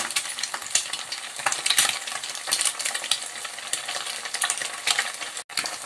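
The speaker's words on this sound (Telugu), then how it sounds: "ఇదిగోండి, ఇది ఫ్రై అవుతుంది కదా." Fried rice sizzles loudly and continuously in a pan while it is stirred, with frequent scraping and clinking of a utensil against the metal, close up.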